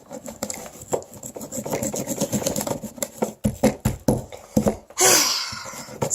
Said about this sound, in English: I get to scrape cookie dough.